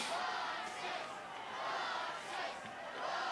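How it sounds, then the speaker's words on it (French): A small crowd of about eight people cheers in Kingdom Hearts 2 during a skateboarding tournament, a faint, continuous wash of shouting and cheers that swells and dips with no clear talking over it. "la foule de 7 personnes, non, 8 personnes m'acclament"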